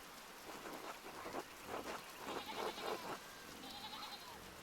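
Sheep in the medieval video game Pentiment bleat in several wavering calls, one after another, over a steady hiss of rain. The calls are moderately close and no one talks.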